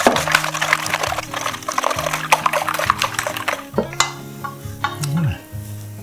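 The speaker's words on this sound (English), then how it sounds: "Alright, so now we have 8 eggs here. I'm going to beat them really well." Eight eggs beaten in a bowl, a rapid clattering of utensil against the bowl in quick irregular strokes, close and steady, with background music tones underneath.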